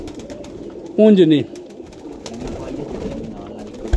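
Pigeon cooing at a bird house, one short loud warbling coo rising then falling, close by over background chatter and brief speech.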